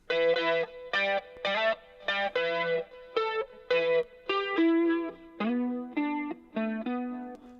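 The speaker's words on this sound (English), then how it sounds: "so it's a much longer delay, still dialed back on the mix control" An electric guitar plays a rhythmic chord pattern with a distorted tone through a long delay effect, each stab trailing into a faint echo before the next.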